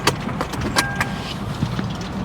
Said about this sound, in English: this bridge makes all kinds of noise